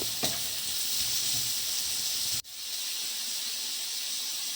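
Shrimp sizzle in a frying pan as they are stirred in with sautéed aromatics for sotanghon noodles, a loud steady hiss with a brief sharp drop in the middle before the sizzling resumes.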